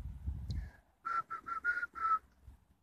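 Short whistled tune from a person in a cemetery in Arlon: five clipped, bright notes in quick succession, fairly close and alone, after a brief muffled rustle.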